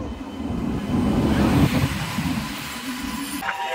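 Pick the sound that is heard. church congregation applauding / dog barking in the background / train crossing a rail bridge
train crossing a rail bridge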